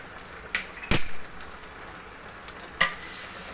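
Grated ginger and garlic stirred with sliced onion in a frying pan, a soft sizzle underneath and a few sharp spoon clinks against the pan spaced across a few seconds.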